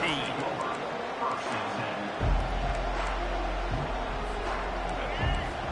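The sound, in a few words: stadium crowd cheering at a football game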